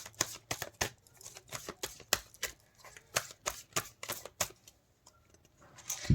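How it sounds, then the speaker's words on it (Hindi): Tarot cards shuffled and drawn, a quiet sequence of crisp riffling snaps and flicks in an irregular rhythm, close and faint, with no talking. "ये जो कार्ड्स हैं ये पास्ट के लिए हैं, ये प्रेजेंट के लिए मैंने कार्ड निकाले हैं आपके लिए।"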